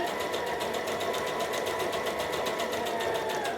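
A sewing machine runs steadily, stitching around the armhole of a Butterick B5655 top, with a fast even mechanical whir and rapid rhythmic needle ticking close by, uninterrupted and with no talking.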